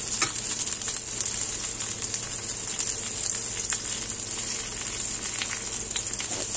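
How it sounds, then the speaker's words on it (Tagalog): Eggplant slices fry in a pan of hot oil with a steady, dense sizzle and crackle, near and continuous, with occasional sharper pops and no voices. "napiprito na tayo ng talong or eggplant"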